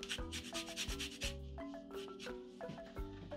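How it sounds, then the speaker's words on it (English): Lemon rubbed quickly against a zester or grater in a kitchen, producing a rapid series of close, soft rasping strokes, with light clinks and background sounds mixed in. "Add zest of 1 lemon."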